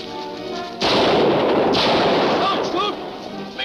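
A gunshot fired at a man in an old adventure serial cracks loudly and close, followed by a long booming echo and rumble that fades, with a voice shouting briefly near the end.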